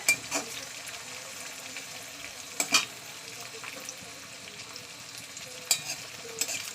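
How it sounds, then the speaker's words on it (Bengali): A cracked egg fries in a pan at home, a soft, low sizzle with a few sharp clinks and taps of a utensil scattered through. "ডিমটা ভাজা করে দেখতে পাচ্ছেন, ডিম ভেঙে দিয়ে দিয়েছি"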